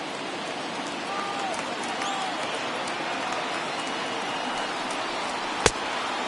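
Large baseball stadium crowd of over 39,000 on its feet at an opening-day Cardinals at Reds game, a steady broad roar of cheering throughout with one sharp crack near the end.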